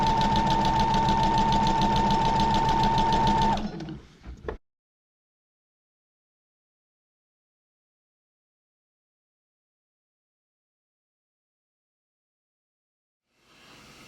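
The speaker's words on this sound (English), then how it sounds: "You could just go ahead and start sewing." A sewing machine stay stitching the edges of fabric runs in a steady, fast, close mechanical hum for several seconds, stops abruptly, and is followed by a long silence until it faintly starts again at the end.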